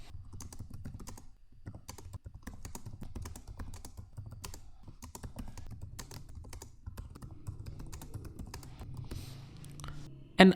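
A computer keyboard clicks steadily as a ChatGPT prompt is typed, close-up keystrokes in uneven quick runs with brief pauses, alone without talk.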